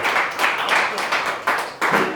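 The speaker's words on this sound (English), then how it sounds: "Give her a round of applause." An audience applauds at a motivational talk, a dense crackle of many hands clapping with bursts that swell and renew over about two seconds, fairly loud and close.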